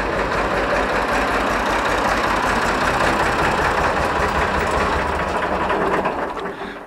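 A farm tractor engine idles steadily and loudly nearby in an orchard, a continuous low rumble with even mechanical texture that stays constant before easing slightly at the end.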